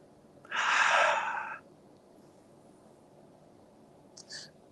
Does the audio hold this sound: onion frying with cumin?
no